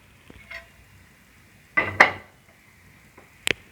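A pot of soya biryani is lifted onto an old heated tawa over a gas flame, making a few sharp metallic clanks and a scrape, with quiet stretches between them.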